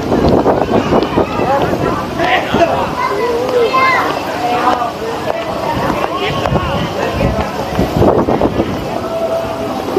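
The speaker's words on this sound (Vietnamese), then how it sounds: "Gió quá to luôn, gió mát." Strong wind buffeting a handheld microphone at the Nhạn Tower grounds, a loud rumbling roar that surges and eases throughout, with someone speaking over it.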